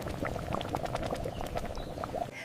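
Braised pork and eggs simmering in a pot, a soft continuous bubbling with small pops, close and quiet, no voices.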